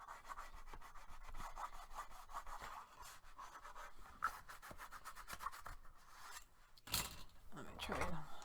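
A bone folder rubs firmly across paper in rapid back-and-forth scratchy strokes, close and quiet and steady, then a brief louder rustle near the end.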